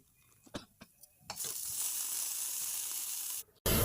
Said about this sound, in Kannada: ಇದಕ್ಕೆ 4 ಒಣಮೆಣಸಿನ್ಕಾಯಿ ಹಾಕ್ಕೊಂಡು ಈಗ ಒಗ್ಗರಣೆ ರೆಡಿ